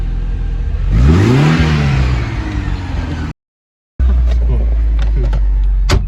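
Porsche 944 on a test drive, its engine revving up with a rising then falling whine, cut by a brief silence before loud cabin rumble and clicks return; a voice speaks over it.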